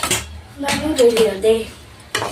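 Upma being served onto a plate in a home kitchen, with a few close clinks and scrapes of a spoon against steel dishes, plus brief background voices.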